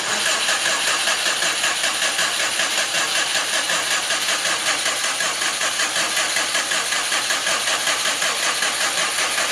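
Rebuilt Subaru Impreza GT engine cranking over for its first start, a loud, close, rapid rhythmic chug held at an even pace throughout, with no talking.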